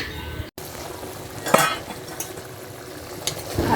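Eggs frying and being stirred in a pan for egg bhuna, a steady soft sizzle with a few sharp scrapes and clinks of a utensil against the pan, no voices.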